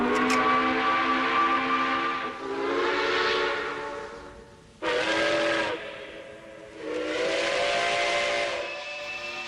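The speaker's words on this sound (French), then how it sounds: "sous les sifflements chauds d'une symphonie de locomotives à vapeur" Several steam locomotive whistles sound loud and sustained, blowing in overlapping chords with short gaps between them and some hiss of steam, and no voices.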